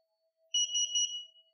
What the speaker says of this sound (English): Now we wait about 7 seconds for the three beeps.